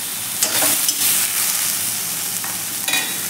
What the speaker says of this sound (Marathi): ह्या शेंगा छान आपण 1-2-3 मिनिट भाजून घेऊया तेलावरती